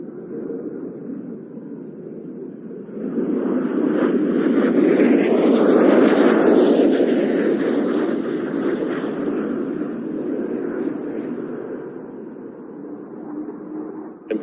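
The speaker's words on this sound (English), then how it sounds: "And here comes the Canberra." English Electric Canberra jet bomber flying past at the Cosford airshow, a deep roar swelling from a distant rumble to a loud peak mid-pass and then fading away.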